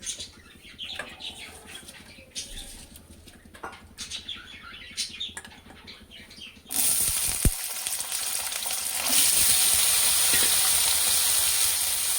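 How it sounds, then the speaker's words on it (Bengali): Winter vegetables fry in a pan: a softer crackle with faint chirps gives way to a loud, steady sizzle about halfway through that continues to the end. "আর আমি ততক্ষণে সবজিটা ভেজে নিই"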